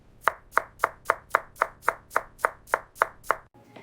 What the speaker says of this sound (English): Now cut the taro into small cubes for even cooking.